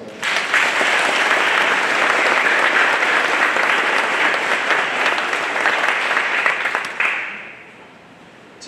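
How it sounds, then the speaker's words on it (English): An audience applauds at a college gathering, a dense burst of clapping that holds loud for about seven seconds before quickly fading to a quiet room. "I know you will join me in giving them a round of applause."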